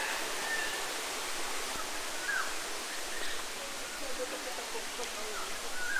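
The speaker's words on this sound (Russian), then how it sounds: "Водопад искусственный впереди, выглядит неплохо." Artificial waterfall at Khao Kheow zoo in Pattaya, Thailand, giving a steady, broad rush of falling water that stays even throughout, with faint bird calls scattered over it.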